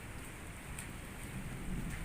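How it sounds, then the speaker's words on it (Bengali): Steady rain falls outdoors on an afternoon in Malaysia, a dense, even patter of drops that stays fairly close and constant with no voices over it. "বৃষ্টি হচ্ছে তো আবহাওয়াটা খুব সুন্দর মনে হচ্ছে।"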